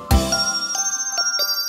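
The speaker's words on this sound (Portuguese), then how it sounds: "quatro sinos velhos, ding, dong, ding, ding, dong, ding." Old bells in a children's song ring with a bright struck chime followed by a lingering metallic tone, with softer repeated ding-dong strikes after it, clear and close with no talking.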